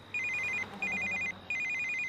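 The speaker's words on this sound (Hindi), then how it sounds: "फोन।" A telephone rings in three short electronic trilling bursts separated by brief pauses, clear and fairly close in a quiet room.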